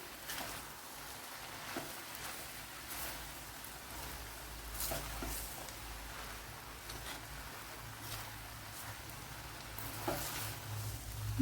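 Puttu noodles with coriander leaves stirred in a pan, giving a soft, steady sizzle with faint scraping strokes at a quiet level, no talking.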